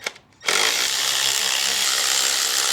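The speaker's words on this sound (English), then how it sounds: "back with a deep socket 10 mil" A power tool whirs loudly and steadily on a deep 10 mm socket, working to loosen a badly stuck part on a rental car. It kicks in after a brief quiet start and runs continuously with no talk.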